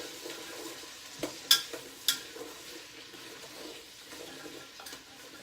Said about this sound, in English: our celery, our carrots, and I'm also going to put in my garlic right now and give it all a good mix